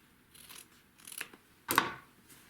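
Scissors snip through excess fabric strips from a sewn quilt triangle, giving three short, separate crisp cuts with the last the loudest, close up with no talking.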